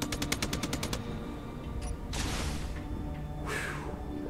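Gunfire in the VR game Space Engineers: a rapid burst of about eight evenly spaced shots, then a few heavier blasts with crackling decay, close and moderately loud, with no talking.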